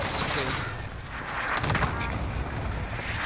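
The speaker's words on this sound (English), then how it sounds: "Fire shotgun." Shotgun blasts with Dragon's Breath incendiary rounds in the Warzone battle royale game, a dense flurry of overlapping gunfire bursts and booms at close range, with players' voices mixed among the shots.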